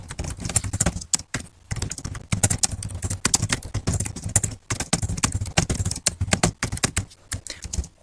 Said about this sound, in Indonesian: Misalkan di sini saya akan mengetik